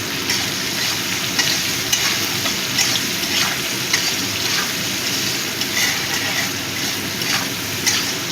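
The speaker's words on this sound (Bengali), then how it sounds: "এবার পেঁয়াজটা একটু ভেজে নেব" Onions frying in a pan for sambar dal give a steady, close sizzle with scattered crackling pops and a faint scraping stir now and then, with no voices over it.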